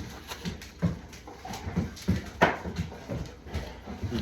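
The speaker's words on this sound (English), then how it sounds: "my dogs are being rambunctious" Rambunctious dogs in a home kitchen scrabble and patter around, with quick irregular thumps and faint whimpering, fairly close but not loud.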